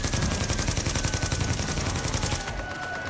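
Rapid automatic gunfire from the PS4 game Tom Clancy's The Division, Falcon Lost DLC, rattles in steady bursts for three seconds, loud and continuous with no voices over it.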